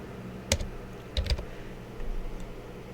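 Clicking keys on a computer keyboard while typing a short word into a design program, a few sharp close taps in two small bursts against a quiet background.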